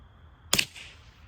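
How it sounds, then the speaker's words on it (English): A single sharp crack from a Rock Island Armory 14Y .22LR rifle firing CCI standard velocity ammunition, short and fairly quiet outdoors, fading quickly into a thin ringing tail. "so let's take some of the shots with CCI standard velocity"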